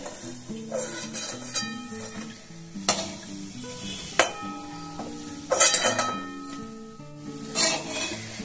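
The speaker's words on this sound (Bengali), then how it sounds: "দেখুন এগুলো সব ভাজা হয়ে যাচ্ছে একটা একটা করে।" Traditional sweets, of the kind once arranged on puja plates, deep-frying in hot oil one by one, with a steady sizzle and bursts of stirring and utensil clinks, loud and close, with no talking.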